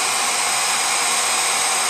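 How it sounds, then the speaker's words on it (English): Hair dryer blowing on eyelashes, a steady close-up airy whoosh that holds constant the whole time. "I just usually hit my lashes one last time with the hair dryer."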